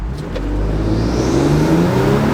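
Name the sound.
modified Ford Police Interceptor accelerating uphill in first gear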